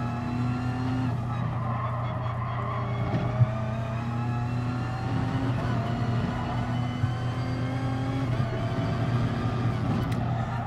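Group 1 race cars lapping the Maggiore circuit in the GT Sport video game, with a steady, loud engine drone, sustained high revs and gear changes, and faint tyre noise underneath, with no voices.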